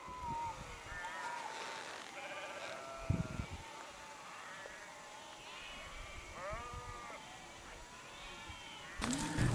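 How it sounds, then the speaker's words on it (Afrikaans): Sheep on a Karoo trek bleat again and again under a steady rumble of background noise, with someone talking over the flock. "die groot skape raak ook nou al moeg"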